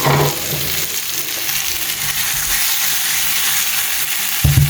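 Fried eggs going into hot curry gravy for an egg curry give a loud, dense, continuous sizzle and bubbling hiss, close up, with a brief clunk at the start and end.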